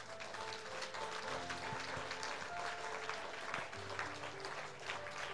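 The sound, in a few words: church congregation applauding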